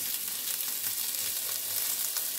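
Sliced onion and red peppers fry in a pan of oil for an okra stew, giving a constant close-up sizzle and crackle with no talking.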